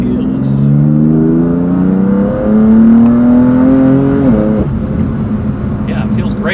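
A BMW M4 GTS engine revs up through rising harmonics, loud and close from inside the car, with a gear change midway before the tone settles into a steady cruise.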